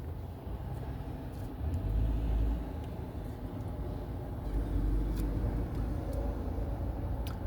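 A car drives on a road, heard from inside the cabin as a low, steady engine and road rumble that swells slightly, with faint ticks and no talking.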